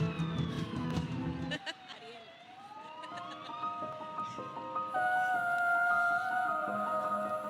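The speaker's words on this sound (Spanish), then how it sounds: "ahora las sirenas de la policía." A police siren wails with rising and falling tones over busy street noise and crowd chatter at a Three Kings parade.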